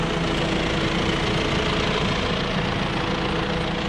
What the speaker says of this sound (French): Donc à l'avant, le tracteur, un John Deere